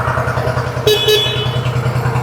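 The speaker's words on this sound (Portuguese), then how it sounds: "ligamos a buzina também" An Agrale vehicle's horn sounds in one short honk over a steady engine idle, fairly close and loud against the running motor.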